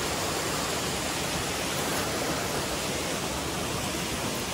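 A waterfall on the Daporijo road between Tamen and Ziro in Arunachal Pradesh pours out a loud, dense, unbroken roar of falling water that fills the whole clip at steady strength.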